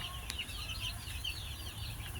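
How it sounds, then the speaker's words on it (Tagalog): Chickens cluck and chatter continuously amid a low steady hum, a busy flock close by. "Yan alagaan namin mga manok"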